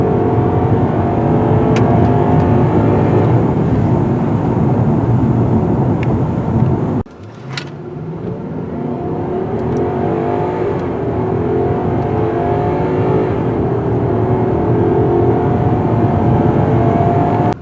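A 2020 Genesis G90 V8 engine revs hard toward high RPM, a loud, steady roar that drops off for a moment mid-clip before building back up and holding strong to the end.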